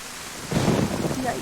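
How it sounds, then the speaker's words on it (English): Thunder rumbling during a rainstorm in a survival video game: a sudden low, rolling boom rising out of steady rain hiss, fairly loud and close, lasting about a second. "Those thunders are so loud."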